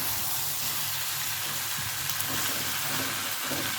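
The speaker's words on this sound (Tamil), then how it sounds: "காயெல்லாம் நல்லா வதங்கட்டும்." Brinjal, drumstick, taro and potato pieces sautéing in a pan for a kuzhambu. A constant soft sizzle and hiss fills the whole stretch, with faint stirring scrapes and no talk.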